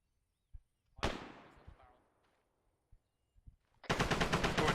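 Gunfire in the Squad video game during a squad training match: a sharp shot with a long, ringing reverberant tail and a few scattered thumps, then a loud, dense burst of rapid automatic fire at the end.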